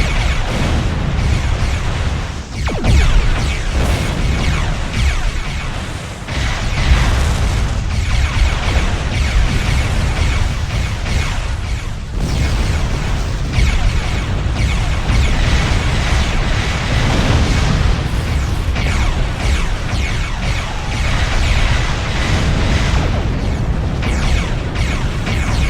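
Starship weapons fire and explosions in the Star Trek Online game roll through as loud, dense booms and bursts, with repeated blasts and a heavy rumble continuing almost without pause.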